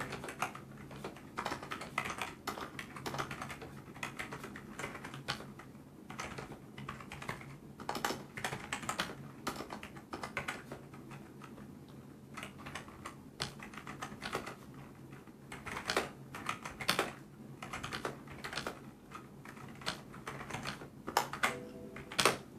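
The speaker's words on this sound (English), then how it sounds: "since this is not a mechanical keyboard, it does not sound as loud as a mechanical keyboard." Continuous typing on a Perixx PX-3200 non-mechanical gaming keyboard, soft muffled key clicks in irregular bursts with occasional heavier thumps from the spacebar, fairly quiet and close.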